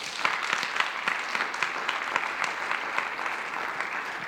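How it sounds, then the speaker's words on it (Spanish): A church congregation applauds during a sermon, a steady wash of many hands clapping at moderate distance with individual claps standing out, filling the whole stretch without any talk over it. "Dale un aplauso al Señor."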